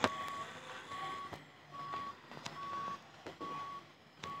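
Truck reversing beeper in the Driver Jobs Online Simulator driving game, a steady run of evenly spaced electronic beeps, about five in a row, moderately loud over a low engine rumble, with no talking.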